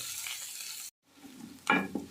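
Sizzling frying of onions in a hot pan after powdered chicken is added, a steady hiss that cuts out briefly, then returns with a short burst of stirring and crackle.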